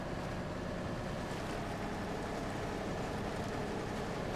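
Heavy truck engine from the Bulldog Ogre SX45 mod in SnowRunner, chugging along in high gear through swampy ground, a steady low rumbling drone with constant broadband noise and no voices.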